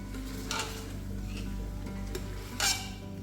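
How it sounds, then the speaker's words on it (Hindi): Tomato with turmeric and other spices fries in a pan for a mutton dish, giving a low steady sizzle broken by a few sharp scraping stirs of the spoon. "और 5 से 6 मिनट के लिए हमने इसको भून लेना है।"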